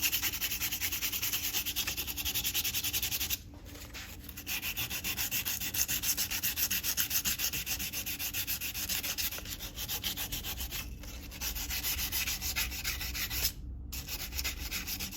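Steady hand sanding of a knife handle with 220 grit sandpaper, a continuous close scratchy rubbing with brief pauses between strokes, heard alone without talk.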